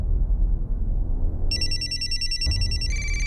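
An electronic telephone ringtone starts after a low rumbling room background, with bright steady trilling tones. The pitch pattern shifts partway through and the ring keeps going to the end.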